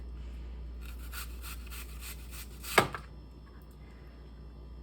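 A knife cuts thin apple slices on a board, a series of soft scraping strokes building to one sharp, close chop, then quiet.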